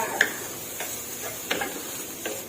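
Red curry paste dry-roasting in a pan for Isan-style chicken with glass noodles, with a faint sizzle and a few soft scrapes of stirring spaced about every second, quiet and close with no voices.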